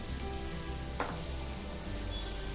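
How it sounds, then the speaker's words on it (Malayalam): Ground spice powders, turmeric, pepper and chili, sizzle steadily in hot oil in a pan for a vegetable biryani cooked in a pressure cooker, with a brief stir scrape midway and no talking. "നമുക്കിനി പൊടികളുടെ പച്ചമണം മാറുന്നവരെ ഒന്ന് വഴറ്റി കൊടുക്കാം."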